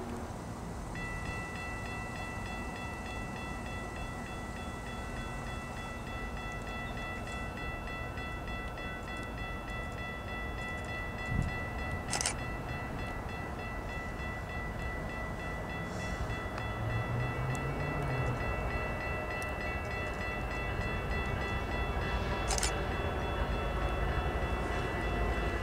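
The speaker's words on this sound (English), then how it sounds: "comes into National Street with X Amtrak F59 PHI number 89" An Amtrak train led by an F59PHI locomotive rolls past outdoors in snowy countryside, a steady rumbling roar with wheel and rail noise building slightly over time, a few faint tonal whines and a brief sharp clank midway.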